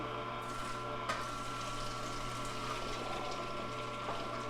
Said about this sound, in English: So we're gonna start with a few cucumbers first, just to get the liquid going.